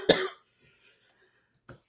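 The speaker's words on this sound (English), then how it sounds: "I was going to try not to cough this time, but it's just not working for me." A single sharp cough sounds close and clear in a quiet room, followed after a pause by a softer second cough or throat noise.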